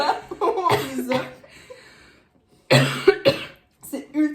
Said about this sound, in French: En plus, j'ai la toux là.